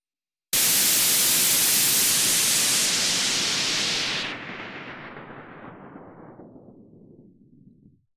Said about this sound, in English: as I turn this knob and move that filter point lower, what happens is I'm cutting out some of those high frequencies.